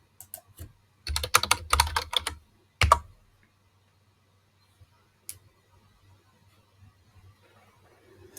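Rapid clattering keystrokes on a computer keyboard, a quick burst of typing followed by one more short flurry and a few scattered light clicks, close and fairly quiet.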